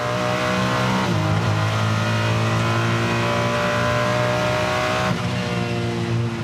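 GT race cars at the Bathurst 12 Hour endurance race roar loudly and continuously, the engines holding a high, steady drone that shifts pitch as they change gear, with no voices over them.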